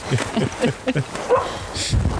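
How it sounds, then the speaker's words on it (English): An impatient dog whines and yips in a string of short, high, pleading cries with a few barks, close and loud, as it waits for a hike to begin. "and Zelda will not stop crying because she's waiting for everyone to go"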